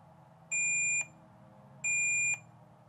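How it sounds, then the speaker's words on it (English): Two identical high electronic warning beeps from a Snap-on Triton D10 scan tool, each about half a second long, spaced about a second apart over a low steady hum. "So we got our warning beeps."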